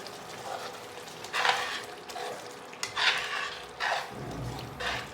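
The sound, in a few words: chicken samma masala cooking in oil in a pan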